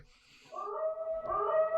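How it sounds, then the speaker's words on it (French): Coyotes howl in a video game, a long wavering howl rising and holding, with several tonal voices layered close together and loud. "Ça, c'est des gros coyotes, ça."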